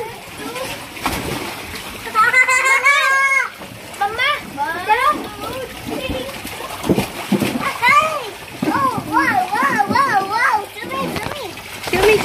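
Children splash and slosh water in a bathtub close by, with bursts of splashing mixed with their excited talking and squeals throughout.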